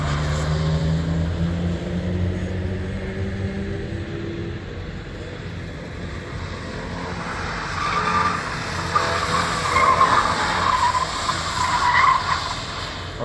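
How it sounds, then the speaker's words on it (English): A race car spins out on the Refrigeration Bowl at Summit Point Raceway, a continuous engine drone with tires skidding and squealing, the screech rising louder near the end, with no talk. "I already know he's gonna spin out."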